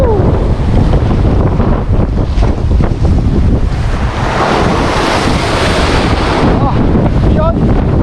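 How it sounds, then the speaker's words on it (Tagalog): Strong amihan wind blasting across the open sea, loud continuous roaring gusts buffeting the microphone over crashing waves, with a faint hint of voices beneath. "Lakas talaga ng hangin"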